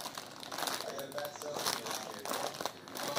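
A plastic bag of lettuce is torn open by hand, giving close, loud crinkling and ripping that comes in quick bursts for a few seconds.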